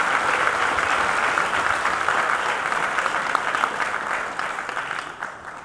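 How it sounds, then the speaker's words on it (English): Sustained, dense applause from a crowd at a county fair awards dinner, loud and steady throughout, tapering slightly toward the end. "Let's give another round of applause for all the 4 days of work."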